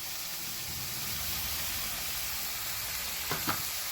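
Ground coconut, onion, chilli and spice paste hits a hot pan, giving a steady, close sizzle and hiss throughout, with two brief knocks near the end.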